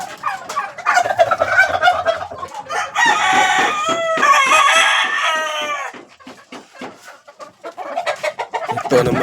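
Chickens kept as backyard poultry, now grown from chicks, crowing and clucking close by, with a rooster's long harmonic crows in the middle and busy clucks around them, no talking.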